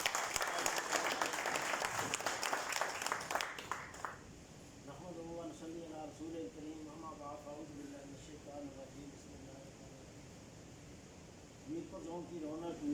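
An audience at a community meeting applauds for about four seconds, a dense burst of clapping that cuts off abruptly, after which someone speaks over quiet room noise.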